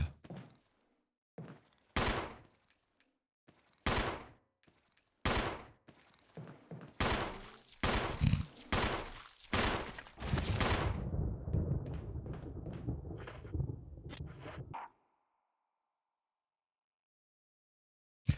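Gunfire from the Resident Evil Remake video game rings out as a string of loud, sharp shots, spaced at first and then coming in quicker bursts with clattering echoes, ending abruptly into silence.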